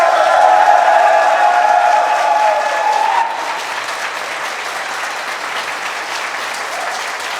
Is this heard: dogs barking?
no